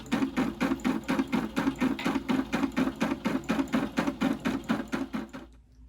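Embroidery machine stitching a design onto a bag, a fast steady rhythmic clatter of needle strokes, close and even, stopping near the end.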